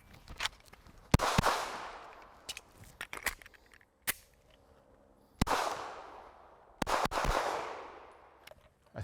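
Shadow Systems CR920XL pistol fired in a failure drill, sharp shots in quick clusters with echoing tails, several reports spaced across the stretch, loud and nearby with no talking.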